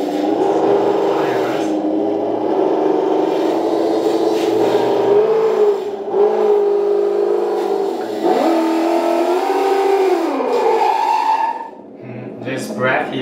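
A JDM-168 1/10-scale four-wheel-drive RC crawler car plays simulated engine sound effects from its built-in speaker, a continuous droning rev that rises and falls in pitch with brief drops, as it drives over a slippery metal bar and floor.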